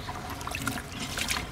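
Water trickles and splashes steadily as leafy greens are rinsed by hand. The greens are being washed as feed for pet budgerigars, and the sound stays close and fairly soft throughout.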